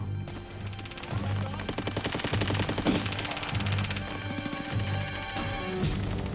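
Rapid machine gun bursts ring out from a rooftop position in urban street fighting in Fallujah, dense rattling volleys that overlap with booming shots and crashes, loud and continuous throughout.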